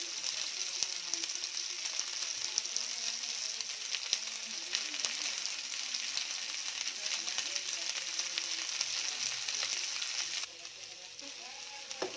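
Thuthuvalai leaves sautéing in a pan for chutney fill the air with a dense, continuous close sizzle and frying crackle that drops suddenly to a quieter hiss near the end.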